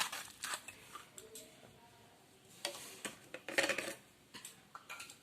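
A spoon clinks and scrapes against a bowl while masala batter is stirred with a little water, quiet irregular taps and scrapes in bursts with pauses between.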